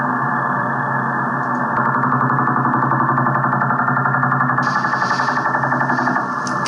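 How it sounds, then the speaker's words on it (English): The Russian Woodpecker over-the-horizon radar, received on the 60-meter shortwave band, comes through as a fast, steady rapid-fire tapping pulse buried in hissy radio static, continuous and loud with no voices. "what you're hearing is the Russian woodpecker radar."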